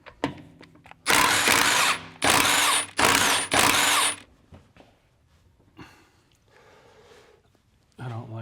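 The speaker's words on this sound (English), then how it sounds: "I usually don't like removing wheel lugs with impact." Impact wrench on a BMW F10 M5 wheel loosens lug nuts in four loud, close bursts of about a second each, followed by quieter clinks of handling and a brief tool noise at the end.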